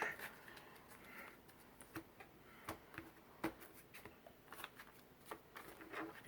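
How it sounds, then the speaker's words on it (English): A deck of Yu-Gi-Oh trading cards being shuffled by hand, a quiet, close series of soft riffling clicks and snaps in an irregular rhythm over several seconds. "Just give it a good shuffle and a cut."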